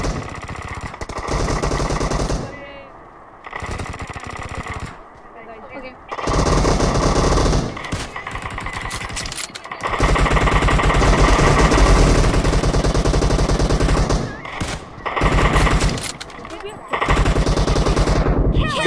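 Long bursts of rapid automatic gunfire in the mobile shooter BGMI, loud and close, with brief pauses between sustained volleys.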